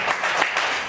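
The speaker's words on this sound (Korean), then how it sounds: "우리 박수, 큰 박수로" A group claps at a children's church education leaders' workshop, brief bursts of hands beating in a loose, fast rhythm, fairly close and bright, over in about a second.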